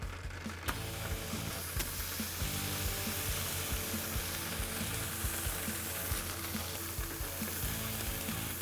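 Two thin four-ounce beef burger patties sizzle on a griddle preheated to about 350–375 degrees, a loud, steady close-up crackle and hiss throughout with no talking.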